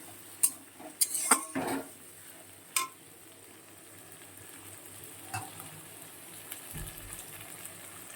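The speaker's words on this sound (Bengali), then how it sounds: "আলু, টমেটো, পেঁয়াজ সবটাই কিন্তু ভাজা হয়ে গেছে" Potatoes, tomatoes and onions frying together for a soybean dish, a soft continuous sizzle under a few sharp clinks of a utensil against the pan near the start, close by.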